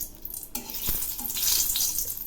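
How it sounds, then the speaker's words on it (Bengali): Three dried red chillies fry in oil in a wok with a bright, crackling sizzle that swells after a sharp clatter at the start, with light stirring sounds, close and fairly loud. "এখন আমি 3টে শুকনো লঙ্কা ভেজে নিচ্ছি"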